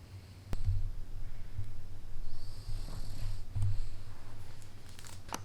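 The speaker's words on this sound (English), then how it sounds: "let me introduce you to my little snoring buddy" A boxer puppy snores softly up close, a low rumbling breath that repeats steadily through the whole stretch, with a few small rustles and crinkles mixed in.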